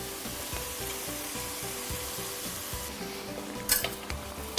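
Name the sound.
Szechuan sauce mixture sizzling with green beans in pan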